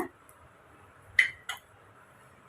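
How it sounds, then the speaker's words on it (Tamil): Kurma gravy being stirred in a cooking pot, a spoon clinking sharply against the metal pot a few times, close and fairly quiet with pauses between strikes. "சேர்த்துட்டு கலந்து விட்டுக்கலாம்"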